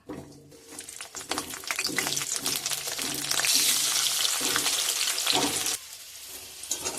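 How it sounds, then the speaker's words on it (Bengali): Potatoes frying in hot mustard oil in a kadai, a crackling sizzle that swells midway and then drops abruptly, with stirring clatter, close and moderately loud. "আলুগুলোকে লাল লাল করে ভেজে নেব।"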